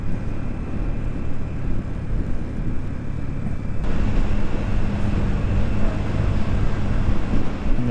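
A Suzuki GR 150 motorcycle engine brakes downhill on the curving mountain roads of Nathia Gali, giving a steady low engine drone with wind buffeting that grows louder partway through.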